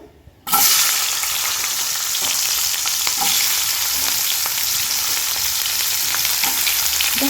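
Paneer and capsicum fry in hot oil in a pan, a steady loud sizzle that starts abruptly after a brief quiet moment and holds evenly, with faint stirring clicks scattered through it.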